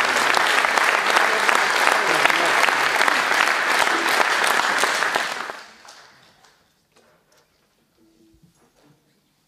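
A concert audience claps for a brass orchestra, dense sustained applause for about five and a half seconds before quickly dying away into near silence with a few faint stray sounds.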